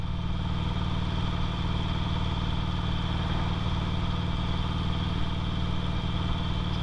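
A 2008 Harley-Davidson Sportster 883L engine rumbles steadily and evenly at close range, with a constant low drone and no clear shift or slowdown.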